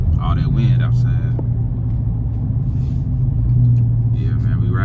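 Wind rushing outside a moving Dodge car in city traffic, a steady low roar under road and engine rumble, with voices talking over it.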